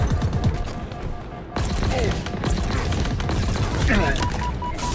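A Halo Infinite firefight, with dense bursts of gunfire and impacts rattling steadily under a voice talking urgently, loud and close throughout.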